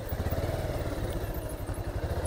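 A Bajaj Pulsar 220F motorcycle engine idles nearby with a steady, rapid low-pitched pulsing throb that holds an even rhythm throughout, with no speech over it.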